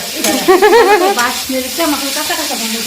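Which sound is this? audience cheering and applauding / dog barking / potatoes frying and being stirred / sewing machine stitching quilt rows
potatoes frying and being stirred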